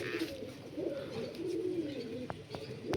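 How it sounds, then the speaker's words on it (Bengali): Malwai pigeons at a seller's loft in Dankuni, Hooghly, give soft, low, repeated cooing, fairly faint and continuous, with a few sharp clicks near the end. "বেশিরভাগই হাজারওয়ালা পায়রা আছে"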